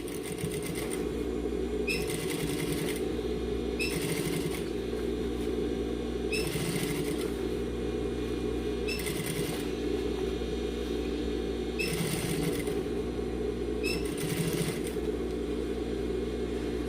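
A sewing machine stitches a fabric bucket hat in repeated bursts of rapid whirring and clatter, separated by short pauses, close and steady over a low motor hum.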